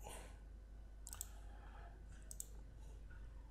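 Two separate computer mouse clicks, roughly a second apart, tick faintly over a quiet, steady background hum.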